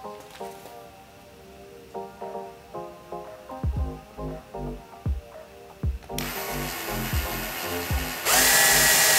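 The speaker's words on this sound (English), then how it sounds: "found the perfect drill bit that fits right in there. So again, I'm gonna do a pilot hole with the small one" A power drill bores a pilot hole through a carbon fiber hood for a BMW 135i, whining in a series of short revving bursts before ending in a louder, sustained drilling run.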